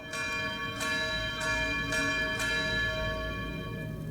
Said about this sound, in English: I realized that a bell was starting when I was going down there.